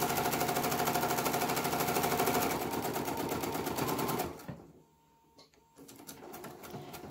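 A sewing machine stitching the full length of a 36-inch fabric strip for mask ties, a steady rapid whirring chatter up close that slows and stops partway, then resumes with a few short runs.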